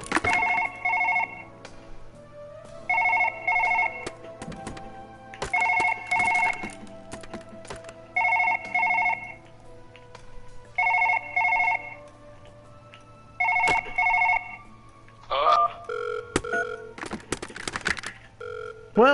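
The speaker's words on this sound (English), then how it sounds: "I can hear the phone." A telephone rings repeatedly inside a video game, its bright two-tone trill sounding in regular bursts over a steady low hum, with clattering game noises growing busier near the end.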